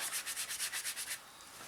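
Gentle scrubbing on a 1/32 scale Messerschmitt Bf 109E-3 model to remove weathering, a close, soft rhythmic rubbing of about nine even strokes that then fades into a steady hiss.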